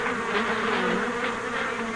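A swarm of active bees buzzes in a steady, dense drone that is close and continuous, with no voices over it.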